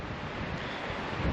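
Steady, roaring gusts of wind buffet the microphone throughout on the backcountry Kaibab Plateau, a constant broadband rush with a slight surge near the end.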